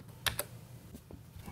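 A PS/2 computer keyboard gives a few faint key clicks close by, a quick pair of taps and then lighter presses, with no talk.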